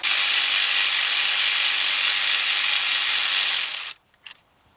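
Ratchet loosening a cylinder head bolt on a Ford Fiesta engine, a loud, rapid continuous clicking whir for about four seconds, then stopping abruptly with a couple of brief metallic clinks.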